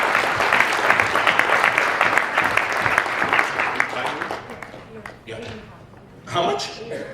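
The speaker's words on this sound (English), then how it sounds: "Give yourselves a round of applause." An audience applauds speakers at a Sunday speech event, the clapping strong for about four seconds before it thins out, and then a voice talks over the last scattered claps.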